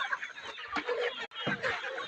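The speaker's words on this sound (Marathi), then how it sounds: "इकडं बघा 5-6 कोंबड्या आहेत आत तिकडं." Chickens clucking inside a coop, a close, continuous run of overlapping clucks and short squawks from several hens, heard alone without talk.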